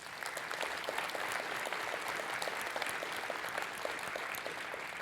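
A conference audience at a Rust programming talk applauding, a dense, even wash of clapping from many hands sustained throughout, with no voices.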